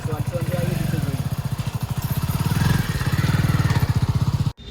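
A motorcycle engine runs steadily with a rapid, low throbbing pulse close by. It keeps going for several seconds, then cuts out abruptly.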